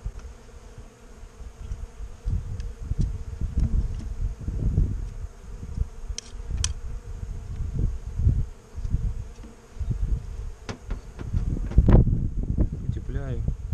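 Honey bees buzzing around hives at a spring apiary, a continuous close insect drone with wind and handling rustle, someone talking intermittently over it.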